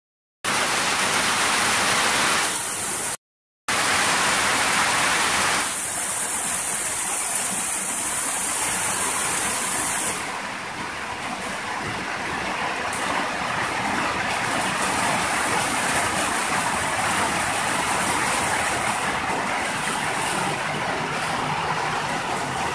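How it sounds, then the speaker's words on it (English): Rain falling outside, a dense, continuous hiss that stays loud and even for the whole stretch, its tone shifting slightly partway through, with no talking over it. "Are you guys hearing this noise? This is the rain"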